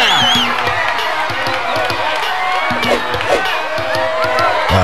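A crowd cheers and whoops continuously around a junkyard fight in the Def Jam Vendetta video game, loud and dense, with shouts and bits of clapping over background music.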